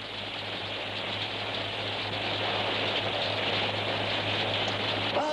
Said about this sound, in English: I ran into this rain